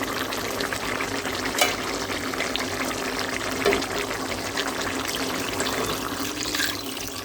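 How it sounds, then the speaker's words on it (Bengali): A steady stream of water runs and splashes into a cooking pot of sautéed chicken, a continuous close-up hiss with a few small clunks, no voices. "তারপর আমি কিছু পানি অ্যাড করে দিলাম"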